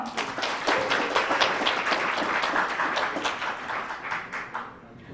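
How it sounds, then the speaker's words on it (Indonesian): An audience at a startup meetup event claps together, a dense, lively burst of applause that gradually thins and fades toward the end. "Tepuk tangan sekali lagi dong."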